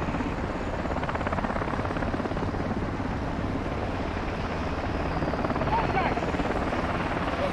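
A helicopter in the Modern Warfare 2 campaign keeps up a continuous rotor thump under game sounds, moderately loud and steady throughout.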